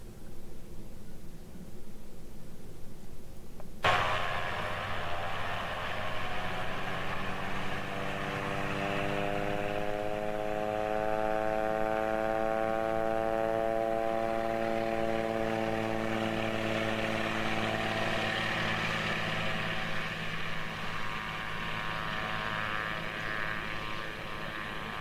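A small propeller airplane takes off from a runway in Alaska, engine droning loudly and steadily with a rising, shifting whine as it powers up and climbs, heard from inside.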